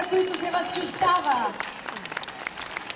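An audience at a Christmas folk concert in Yambol claps and applauds, the sound rising then tapering over a few seconds beneath a voice speaking over a loudspeaker.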